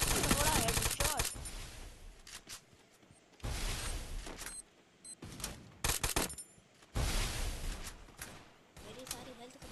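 Bursts of gunfire from a video game shooter match, several loud volleys at irregular intervals with sharp broadband blasts, and a voice talking in between.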